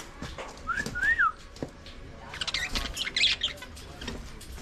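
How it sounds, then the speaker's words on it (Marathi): Whistled bird calls, likely parrots, ring out in a few short rising-falling notes around the first second. Other chirps and a busy outdoor murmur follow, with brief faint sounds from people nearby. "पोपट वगैरे इथे बघा"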